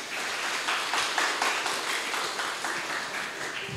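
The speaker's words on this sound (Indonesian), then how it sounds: "Tepuk tangannya sekali lagi." Crowd applause at a church Easter celebration following a traditional dance performance, steady dense clapping sustained for several seconds at moderate loudness.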